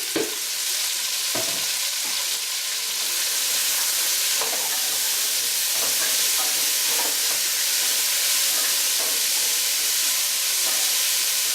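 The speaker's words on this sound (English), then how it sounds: "now we're just going to saute in the vegetables here" Vegetables for sauerbraten sauté in fat in a hot pan, producing a loud, steady, hissing sizzle that runs throughout, with a few soft spoon scrapes near the start.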